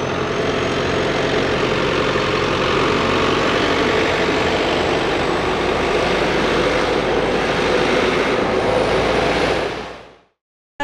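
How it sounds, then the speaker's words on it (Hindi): A new Belarus tractor fitted with a Lamborghini engine runs steadily for about ten seconds, a loud, constant low rumble with a faint high whine, then abruptly stops. "ट्रैक्टर की आवाज़ बहुत ही ज़्यादा धाकड़ है,"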